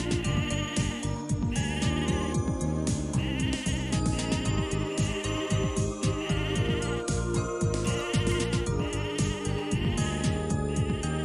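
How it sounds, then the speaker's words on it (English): Mad sheep in the game Mabinogi bleat over and over, with overlapping synthetic sheep calls repeating rhythmically above a continuous looping game music bed, loud and busy throughout. "and then find the mad sheep."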